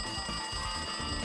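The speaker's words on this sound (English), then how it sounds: "See? The phone's ringing. Why don't you answer it?" In Danganronpa 2: Goodbye Despair, a game telephone keeps up an annoying, continuous electronic ring, heard loud and unbroken for about a second.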